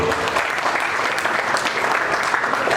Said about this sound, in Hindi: एक बार अपने आप के लिए तालियां बजाइए